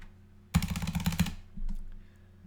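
A burst of fast typing on a loud computer keyboard, close and dense clicks for under a second, followed by a softer thump and faint background hum.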